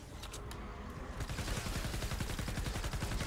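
Rapid automatic fire from the Grave Digger assault rifle in Fortnite Save the World, a loud, steady stream of close shots that picks up after the first second and continues to the end.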